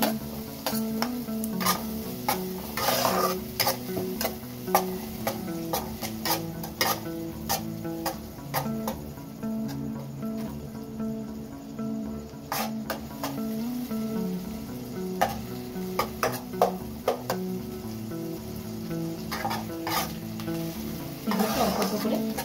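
Chopped capsicum fries in a pan as stuffing for a veg zingy parcel, a steady close sizzle broken by frequent scraping stirs and light clicks of the spoon against the pan, with no talking.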